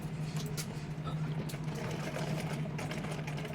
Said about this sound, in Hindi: इस तरीके से इसको रख लूँगी और सिलाई लगाती जाऊँगी।